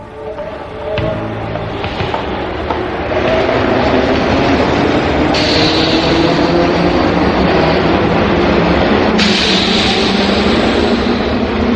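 A subway train rumbles steadily past a platform, loud and close, with a rising roar and brief high metallic screeches layered over the continuous rolling noise.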